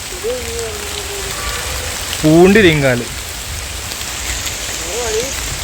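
Steady rain falls as a constant hiss throughout a rainy outdoor walk at a hill spot, with a person speaking briefly and a short vocal sound over it.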